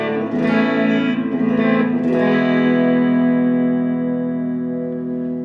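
Electric guitar with a split-coil pickup wired through a 2.7 resistor, played with no pedals: a few picked notes lead into a loud, sustained, bright chord that rings out and slowly fades.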